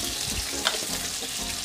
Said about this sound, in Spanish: Y a fuego medio lo vamos a tener hasta que nuestra cebollita coja un tono doradito y se poche bien